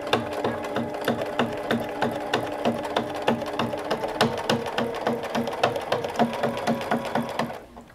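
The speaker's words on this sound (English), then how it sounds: "Place it back over the arm of your sewing machine and you're going to stitch all the way around" A sewing machine stitching around a fabric Christmas stocking runs steadily, its needle thumping in a fast even rhythm, close by, stopping abruptly at the end.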